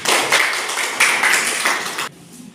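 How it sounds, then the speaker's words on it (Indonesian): Classroom applause for a student's answer: a short burst of dense clapping from a group of students, loud and close, ending abruptly after about two seconds. "Boleh kasih tepuk tangan."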